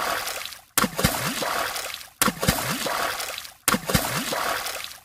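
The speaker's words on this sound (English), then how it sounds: "I guess we're gonna have to swim to it." Swimming splashes churn water in three repeated bursts, each starting with a sudden splash and continuing as sloshing, with voices heard over them.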